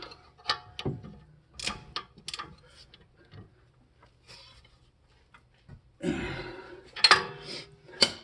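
Scattered metallic clicks and ratcheting as a bushing bolt on a BMW E46 rear trailing arm, fitted with a Whiteline poly bushing, is snugged with a breaker bar and a small 3/8 ratchet; bursts come in short irregular strokes with quiet gaps.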